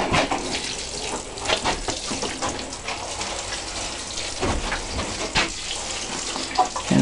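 Water splashes and gushes steadily onto corn plants inside a greenhouse, a continuous close spray with occasional louder spatters.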